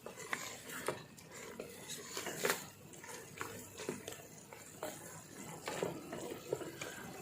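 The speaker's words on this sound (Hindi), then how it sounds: "और इसको अच्छी तरह मिक्स कर लेंगे।" Meat with green chillies being stirred in a pot for Peshawari namkeen gosht, with soft irregular scraping and clinking of a utensil against the metal pot, quiet and close, repeating several times with no talk.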